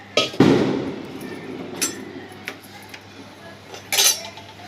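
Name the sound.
tomato pieces put into pot on stove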